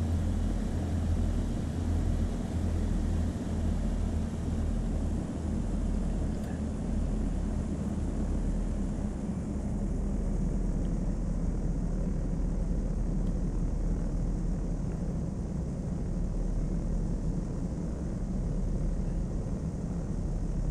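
A simulated aircraft descends with full flaps in a crosswind toward Kahului in Flight Sim World, producing a continuous low engine drone and broad airflow hiss that stays steady throughout.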